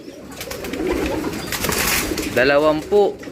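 Breeding pigeons coo in a loft, giving low throaty calls close by, with a louder coo near the end and a rustling background.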